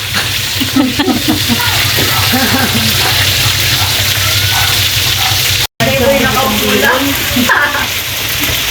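Pancit noodles frying in a pan at a family birthday gathering, a loud, continuous sizzle with stirring scrapes, while voices talk over it and there is a brief dropout midway.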